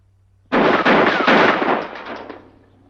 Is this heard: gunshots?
yes